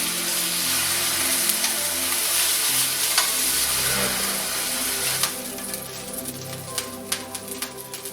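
Holiday meat sears on a grill, a loud steady sizzle and crackle that fills the whole stretch, with scattered sharper pops toward the end.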